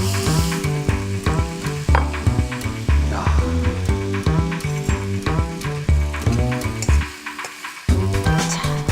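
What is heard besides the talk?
stir-frying food in a pan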